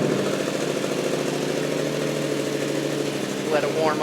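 A Yamaha R7 motorcycle with a Yoshimura exhaust idles steadily after a first start on fresh oil, a close, even rumbling drone with a faint rising tone near the end.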